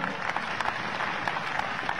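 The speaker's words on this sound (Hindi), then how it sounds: "मोदी जी की एक बार जोरदार तालियां हो जाए" A rally crowd in Ujjain applauds for Modi with a brief, dense patter of many hands clapping, steady and moderately loud throughout, with scattered sharper claps standing out.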